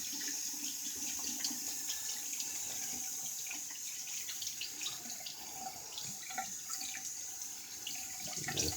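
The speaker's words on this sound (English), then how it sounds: "Give that a second and rinse the brush here." Tap water runs steadily into a sink while a shaving brush is rinsed, a constant hissing splash with small irregular spatters, close by and with no talking.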